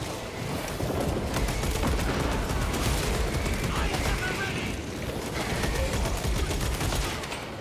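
Sustained, dense firing of a melter rifle in Space Marine 2, a continuous roaring, crackling barrage that stays loud and close for the whole stretch, with rapid pulsing bursts layered over a thick low-end rumble.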